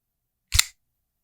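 A single sharp metallic snap with a brief low thud as an Ontario Rat Model 1 folding knife with a D2 steel blade is flicked open and locks, alone in silence.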